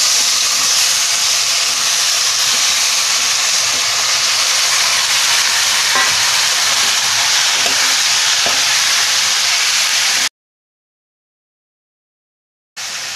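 Pointed gourd fries in a pan with turmeric and red chilli, giving a loud, dense, continuous hiss and sizzle with faint stirring ticks. It cuts to silence near the end, then briefly resumes.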